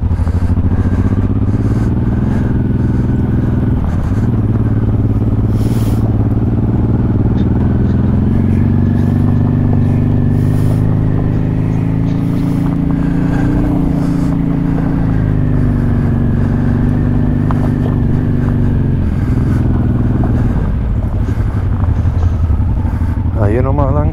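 A Honda Transalp motorcycle rides off-road at an enduro training park, its engine droning and rising and falling in pitch through the whole stretch with some clatter, while riders talk over it.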